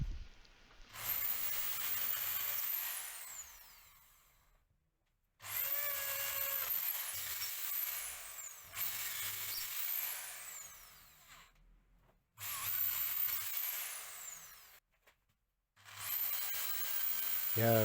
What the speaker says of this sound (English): We just take a bigger drill bit and we just chew it away until we have called them slots.